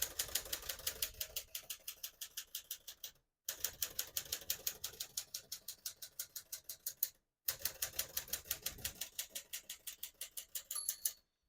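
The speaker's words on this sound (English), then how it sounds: "Once you hear the bell, you're at the end of the margin." A 1951 Smith-Corona Silent portable typewriter types in three quick, close bursts of clacking keystrokes, with short pauses between them. A faint ring of the margin bell sounds near the end.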